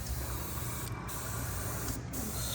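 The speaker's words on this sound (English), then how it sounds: "spray all inside, getting all the cracks around the lugs" Ceramic coating cleaner sprayed inside car wheels around the lug nuts, a steady close hiss running throughout over a low rumble, with two brief breaks where the nozzle pauses.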